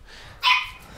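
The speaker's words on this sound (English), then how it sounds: "Turns out the dog was barking at a fly" A single sharp dog bark, brief and moderately close, rising out of a low background hum.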